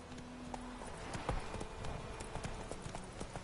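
Hooves of Roach, Geralt's horse in The Witcher 3, clip-clop in a steady rhythm at close range, with faint game ambience and no talk over them.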